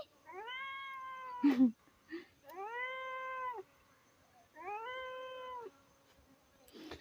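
A cat meows three times in long, drawn-out cries with pauses between, close and fairly clear, with a short sharp noise between the first two.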